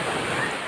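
Sea waves wash at the Agusan Sea, a steady broadband surf roar with wind noise, continuous and close, over a very short stretch.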